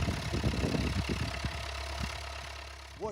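A tractor engine idles at an agricultural show, a steady low rumble with faint chatter and crowd noise around it throughout.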